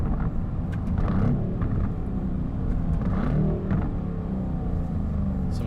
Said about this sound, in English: Some nice little pops and bangs coming out of the car.